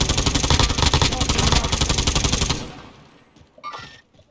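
Rapid automatic gunfire in the Call of Duty Warzone Resurgence battle royale video game, a loud dense burst of repeated shots for about two and a half seconds, then quieter ambience and a brief later sound.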